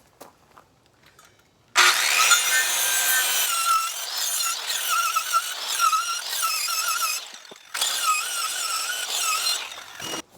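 Power saw cutting a board at about three-quarter-inch depth while making a self-healing target, starting abruptly and biting through the wood with loud rasping and squealing, a brief pause, then a second pass that cuts off near the end.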